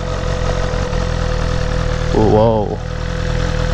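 A KTM RC8 R sport motorcycle engine idles steadily with a loud, even mechanical drone and a constant hum, while a man briefly exclaims in surprise partway through.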